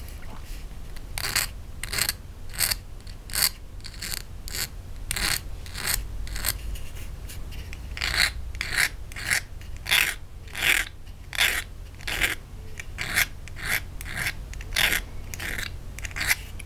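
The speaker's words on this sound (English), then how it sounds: "Filing in the proper direction from the tip of the file downwards." A metal file works the edges of a jewelry tab set pendant, giving steady rhythmic rasping strokes, close and crisp, repeating about once every half second throughout with no talk.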